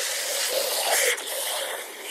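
A steady, close hiss of water spraying from a hose, loud and continuous with a slight change partway through, no voices.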